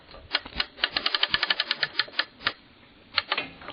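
Winding handle raising the height of a Lucas Mill planing disc, giving a close, rapid run of sharp metallic ratchet clicks that bunch up and then trail off, with no talking.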